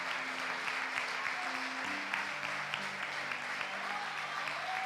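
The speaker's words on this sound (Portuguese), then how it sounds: "Pode aplaudir o Senhor, pode aplaudir o Senhor, pode aplaudir, pode aplaudir." A church congregation applauds steadily throughout, a continuous mid-distance wash of many hands clapping, with faint voices and a sustained tone beneath it.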